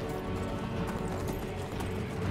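A horse in Skyrim clops its hooves in a steady, busy rhythm, with a brief whinny in the mix, loud and close against a dense game backdrop.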